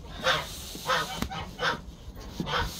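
A white goose honks repeatedly outdoors, about five loud nasal calls spaced roughly evenly, close by over faint background noise.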